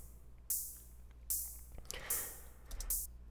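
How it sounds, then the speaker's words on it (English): A synthesized noise ride cymbal from an FM operator on a noise oscillator, in a STACK track breakdown: four bright hissy washes, each swelling and fading, struck evenly about every 0.8 seconds alone over a low steady hum. "noise ride that's just an operator that's on the noise"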